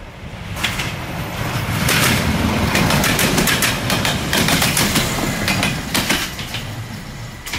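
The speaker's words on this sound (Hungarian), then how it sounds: "A vonat!" A passing train rumbles loudly and continuously, with a steady clickety-clack of wheels and metallic clatter over the rails running through the whole stretch. No one speaks.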